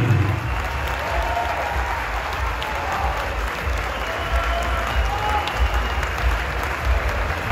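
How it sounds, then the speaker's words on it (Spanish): Steady applause from a large crowd at a professional boxing event after a knockout, sustained and dense at a constant level for the whole stretch with no voices standing out. "Fuerte el aplauso para Moy."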